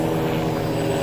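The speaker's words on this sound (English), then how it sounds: "Have this loud helicopter in the air." A JJPRO X2 (LishiToys L6056) toy drone hovers nearby with a constant, buzzing whine of small propellers, steady and fairly loud throughout.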